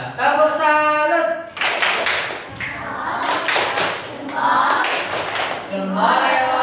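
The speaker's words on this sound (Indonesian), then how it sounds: "Ya, tepuk salut." A classroom of pupils performs a patterned group clap routine, chanting between bursts of rhythmic claps and taps, close and lively with voices mixed throughout.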